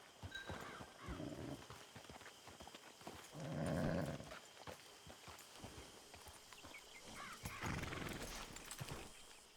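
A horse in the video game Red Dead Redemption 2 clip-clops and snorts faintly, with a soft whinny around the middle, hooves shuffling intermittently over quiet background sounds.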